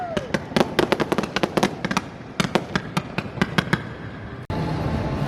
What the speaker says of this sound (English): So those fireworks were the finale for the Cinematic Celebration Spectacular water show at Universal.